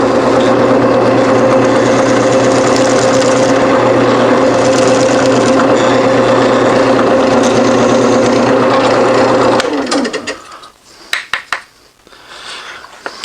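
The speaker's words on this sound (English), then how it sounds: "I did drill a partial hole that only goes about that deep" Power drill boring a 21/64-inch hole into a chiseled wooden recess for an epoxied nut during a table saw knob repair: a loud, steady whirring drone for about ten seconds, then it stops, leaving scattered knocks and handling clatter.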